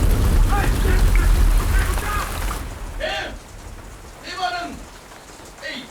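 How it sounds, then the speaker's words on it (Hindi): Rain falls heavily on a coffee plantation, a dense close hiss at first that thins out as voices speak over the softer patter. "अरे बाहर आओ, बारिश हो रही है, सेलिब्रेट कर।"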